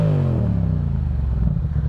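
A custom motorcycle engine, running with its clutch sensor cut off, revs high and then drops back, a loud close rumbling engine note that falls in pitch within a couple of seconds and settles into a rough clattering idle.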